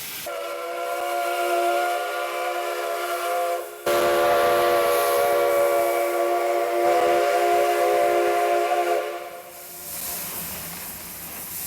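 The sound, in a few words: oil-fired RENFE steam train running through Vigo docks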